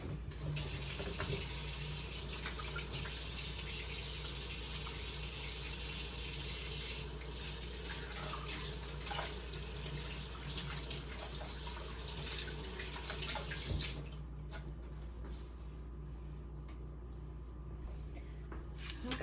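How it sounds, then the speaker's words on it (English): Hands are washed under a running kitchen tap, giving a steady, fairly loud rush of water that splashes and shifts as the hands move, then drops to a quieter trickle near the end, with no talking. "So I'm going to wash my hands really quick."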